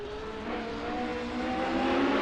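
A Formula 1 car racing a fast lap around Le Mans in Assetto Corsa gives a loud, continuous high-pitched engine whine that climbs steadily in pitch as it accelerates, with no voices over it.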